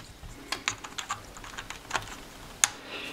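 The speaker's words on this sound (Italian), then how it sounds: "Vi mostriamo anche, per così dire, i tasti a membrana della ROD 400 Genesis" Fingers typing on the membrane keys of a Genesis Rhod 400 RGB keyboard, a quiet run of soft irregular taps with one sharper click near the end, close but faint and without talk.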